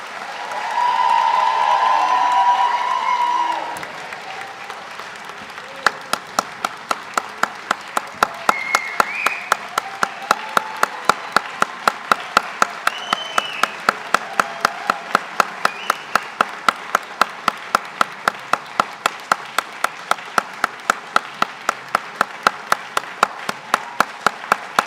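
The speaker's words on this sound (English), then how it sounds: "Will the audience please join me in applauding the achievements of these graduates?" A commencement audience gives graduates a burst of full applause that tapers off, leaving one person clapping in a slow, regular rhythm that carries on for about twenty seconds in a large hall.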